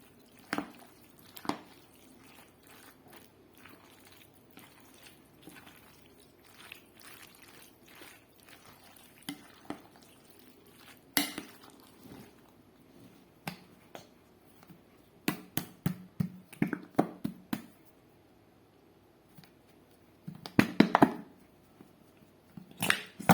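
Chicken macaroni salad is mixed in a bowl, giving soft, wet squishing and scraping sounds in scattered clusters, mostly faint with a few louder bursts.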